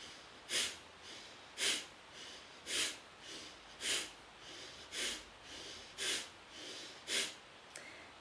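Forceful rhythmic breathing exercise: eight sharp, loud nasal exhales at roughly one-second intervals, each followed by a softer inhale, close and alone without talk.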